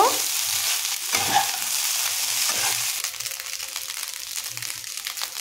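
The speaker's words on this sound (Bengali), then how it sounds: "এবার এটাকেও ভালো করে নাড়াচাড়া করে মাখিয়ে নেব।" Fried rice seasoned with soy sauce is stirred and tossed in a hot pan, giving a continuous loud sizzle with a dense rustle of scraping and mixing throughout.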